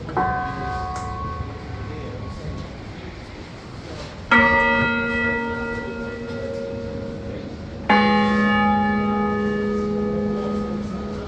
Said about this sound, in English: So there's a bit of Westminster chimes for you there.